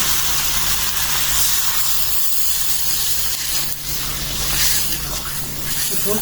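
Water hits a hot pan of fried native fish curry with new potatoes and tomatoes, producing a loud continuous steaming hiss that rises and falls, with a low hum underneath.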